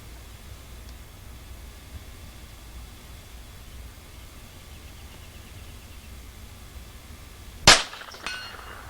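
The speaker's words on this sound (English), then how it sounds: "She's going to shoot 5 shots." A rifle shot rings out against steel silhouette targets at an outdoor range, one sharp loud crack late in the quiet stretch, followed by a fainter echo or metallic ring.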